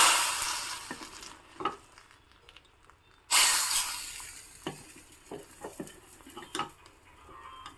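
Mustard seeds, asafoetida and a dry red chili tempered in hot coconut oil for Mangalore-style sambar: a soft sizzling hiss broken by sporadic sharp crackles and pops, with one louder burst of spitting midway and no talking.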